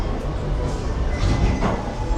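Low, heavy rumble of the Walt Disney World Railroad train rolling slowly at Magic Kingdom, heard from inside, with faint rail clatter and a brief squeal rising near the end.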